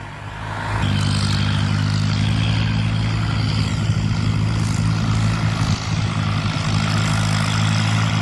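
A Ford New Holland 7610 tractor's engine settles into a loud, steady idle after a brief rise, holding a constant low rumble close by with no talk over it.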